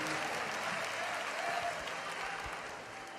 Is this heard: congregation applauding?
yes